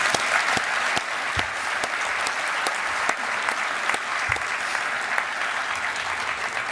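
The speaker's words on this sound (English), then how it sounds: "you deserve a round of applause for sure" A large audience at the 2015 NBA MVP ceremony applauds steadily, a dense wash of clapping with a few sharper individual claps standing out, sustained throughout and close.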